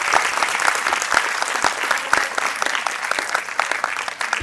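An audience applauds students called to the stage at a school annual day, dense steady clapping from a large crowd with sharp individual claps standing out, loud and continuous throughout.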